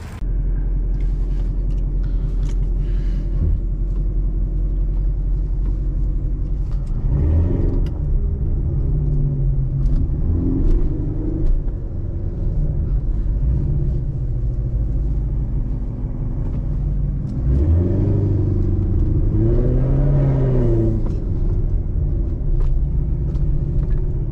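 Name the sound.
2014 Chevrolet Corvette Stingray Z51 driving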